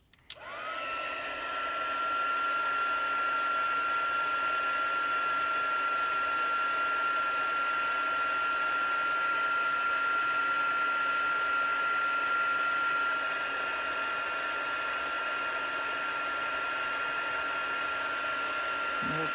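A heat tool warms embossing powder on a handmade card, a steady close blowing whir with a high whine that runs unbroken for nearly twenty seconds.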